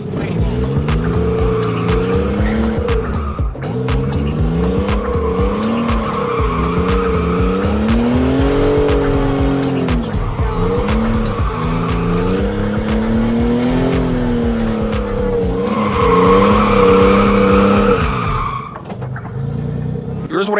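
Car drifting around a cone in figure eights while a handbrake turn is practised, its engine droning loudly and steadily as tires squeal and skid almost nonstop, pitch rising and falling with each turn before a short drop near the end.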